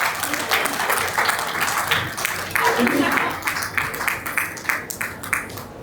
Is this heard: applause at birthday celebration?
yes